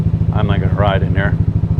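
A motorbike engine idles or rolls slowly close by with a steady low pulsing throb, while a person talks over it.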